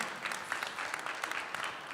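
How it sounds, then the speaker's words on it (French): Applause from an audience at a gala awards ceremony: a steady, moderately distant patter of many hands clapping, continuous throughout the short moment. "on les applaudit, bravo"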